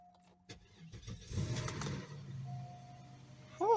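A 2004 Cadillac DeVille cranks after three months without a battery tender, with the mouse-infested engine catching and settling into a rough, steady idle. It is close and fairly loud, and a brief tonal squeal comes at the very end.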